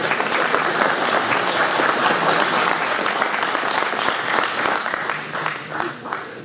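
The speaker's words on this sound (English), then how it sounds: "could I have a round of applause for all those young people that were here?" Sustained applause from a crowd at an annual meeting in Big Timber, steady clapping throughout that fades slightly toward the end.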